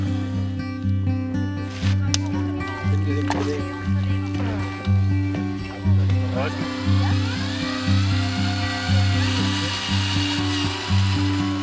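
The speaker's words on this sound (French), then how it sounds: "je suis en train de couper des morceaux de bois creux pour pouvoir le mettre dans un hôtel d'insectes" Pieces of hollow wood being cut for an insect hotel, a steady motor hum with a rhythmic pulsing cut repeating roughly every second, fairly loud and continuous throughout.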